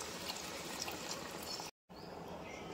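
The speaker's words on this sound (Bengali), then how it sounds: "এবার জল দিয়ে দেবো।" Water pours steadily into a pot of dalia and lentils in a continuous close, hissing splash. It breaks off for an instant, then resumes at the same level.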